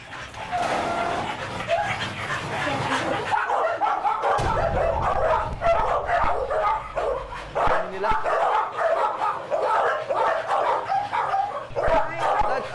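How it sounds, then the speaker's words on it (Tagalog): A chaotic chorus of many dogs, including pitbulls, barking nonstop, loud and overlapping, with yips and whimpers mixed in throughout. "Di magkamayaw na tahol ng mga aso ang agad na sumalubong sa akin."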